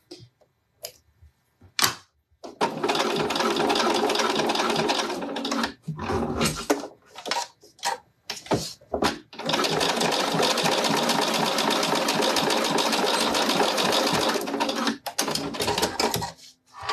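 A Bernina sewing machine topstitches fabric on a pouch, running in long, loud, close bursts of rapid mechanical stitching broken by short pauses and small clicks.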